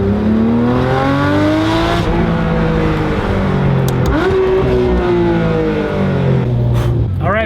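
A Porsche 992 GT3 RS with a titanium exhaust revs hard, its loud engine note climbing in pitch, dropping briefly, then rising again, close up and continuous.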